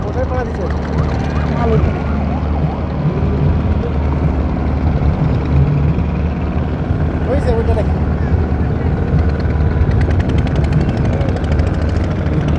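A steady, loud motor drone with whirring rotor hum from a flying camera drone over a moving steamer runs throughout as a person talks over it.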